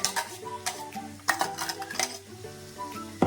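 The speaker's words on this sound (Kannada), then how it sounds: "ನೋಡಿ, ರುಬ್ಬಿರೋಂಥ ಮಿಕ್ಸ್ಚರು ಹಾಕ್ತಾ ಇದ್ದೀನಿ." Ground spice mixture tipped into a cooking pot for rasavangi with chow chow, giving a few close clinks and scrapes of utensil against metal over a soft background sizzle, with no talking.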